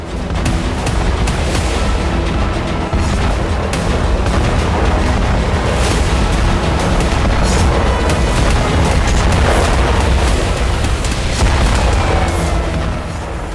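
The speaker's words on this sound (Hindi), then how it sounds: "यूक्रेन के ड्रोन से बड़े धमाके" Ukrainian drone strikes set off big explosions at Russian sites such as oil refineries, a continuous loud, rumbling roar with repeated heavy booms and bursts.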